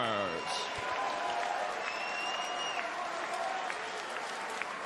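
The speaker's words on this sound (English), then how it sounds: "a round of applause for these two warriors" Steady crowd applause for two bare-knuckle fighters after a five-round middleweight bout, a dense continuous wash of clapping filling the arena, with a brief voice at the start and faint tones above.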